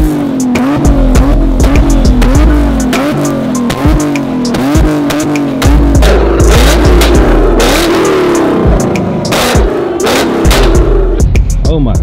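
A Jeep Grand Cherokee Trackhawk engine revs hard and loud for twelve seconds, rising and falling in repeated surges with a close, roaring exhaust note and what sounds like tire noise.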